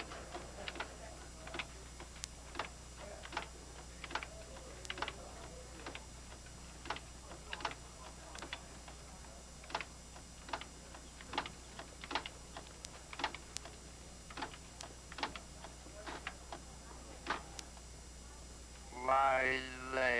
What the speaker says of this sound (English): type it in regular English spelling